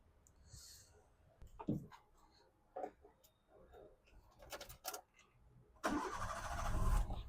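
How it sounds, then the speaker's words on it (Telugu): A 2006 Maruti Wagon R petrol car with 37,000 km starts on the first try: faint clicks and rustles, then the engine cranks and catches into a steady, close idle that fills the last second. "ఒకసారి వెహికల్ స్టార్ట్ చేసి తీసుకుందాం మనం"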